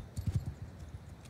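Horse hooves clip-clopping in Mount and Blade II: Bannerlord with a Warhammer-inspired mod, a quick, quiet run of hoofbeats that fades into softer steps.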